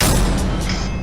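A deep booming explosion from an animated superhero battle rolls out loud and close, with a couple of faint higher bursts on top and no talking.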